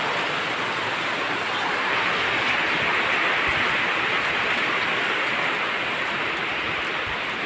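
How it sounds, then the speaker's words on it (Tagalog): Heavy rain pours steadily onto a flooded rice paddy being readied for transplanting, a dense, constant hiss that fills the whole scene without a break. "Ang lakas ng ulan guys."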